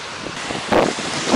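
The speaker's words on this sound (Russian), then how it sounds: "Ну, ветер все еще сильный. Волнение на воде есть." Strong wind buffets the microphone over choppy water, with waves sloshing nearby in gusty, uneven surges, heard on a lake or river boating trip with no voices.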